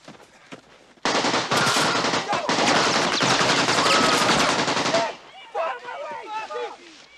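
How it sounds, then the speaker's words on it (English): AK-47 assault rifle firing in sustained, dense automatic bursts, loud and close, continuous for several seconds before breaking into scattered shots with shouting voices. "AK-47 assault rifle, the preferred weapon of your enemy. And it makes a distinctive sound when fired at you"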